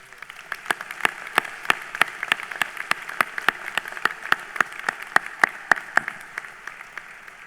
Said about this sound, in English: all of us give our families a round of applause